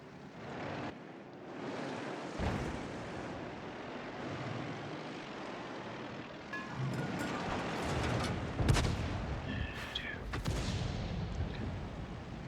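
Artillery from a self-propelled gun in a tank video game, dull booming shots amid a steady engine and battle rumble, with a sharp crack near the end, moderately loud and continuous.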